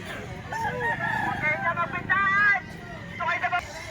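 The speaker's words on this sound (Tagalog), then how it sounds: "dito pala marami ng manok" Roosters crow repeatedly at a busy chicken market, their drawn-out calls rising over a steady hubbub of crowd noise and nearby voices.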